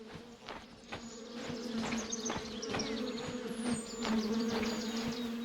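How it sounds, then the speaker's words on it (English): Bees buzzing near a tree in the video game The Vale, a continuous droning hum with sharp rhythmic clicks throughout, fairly close and steady, with no voices. "I hear the bees. I don't see them. They must be off the path somewhere."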